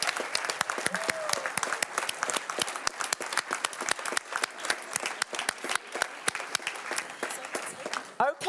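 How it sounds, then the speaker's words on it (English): An award-ceremony audience at the European Capitals of Small Retail 2026 breaks into loud, sustained applause, a dense wash of many hands clapping that keeps going and briefly falters near the end. "congratulations, we can all smile and clap"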